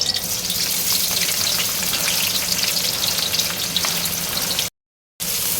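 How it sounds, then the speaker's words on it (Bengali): Chopped onions frying in hot refined oil, a loud, dense, continuous sizzle heard up close with no talking, cut off briefly near the end by a moment of silence before resuming. "তেলটা গরম হয়ে গেছে, এবার আমরা পেঁয়াজ কুচিগুলো দিয়ে দেব।"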